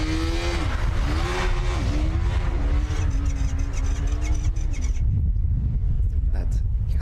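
A Formula SAE race car from the R6 team with a revving combustion engine runs an autocross course at a Formula SAE 2024 competition, buzzing loud and close as pitch rises and dips through gear changes, with an announcer talking over it.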